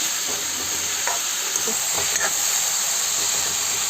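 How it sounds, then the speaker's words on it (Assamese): Chutney ingredients frying in a pan, a steady hissing sizzle with occasional scraping stirs of a spoon, close and continuous with no talking. "খুব বেছি মই 5 মিনিটমান ভাজিছিলোঁ।"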